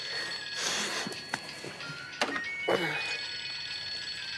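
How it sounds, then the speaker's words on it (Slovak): A mobile phone ringing indoors, a repeating electronic ring tone in short bursts over quiet room sound. "pokiaľ nám do toho bude vyzváňať mobil"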